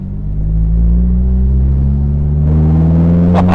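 Engine of a 2017 Morgan Plus 4 sports car running close by, a steady deep rumbling hum with a smooth low drone that rises gently in pitch, ending with a couple of brief sharp clicks.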